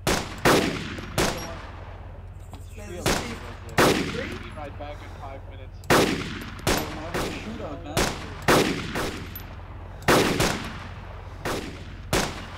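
Gunfire from the survival video game DayZ, with a string of sharp, loud shots spread irregularly over the stretch, some in quick pairs, over a low steady background hum.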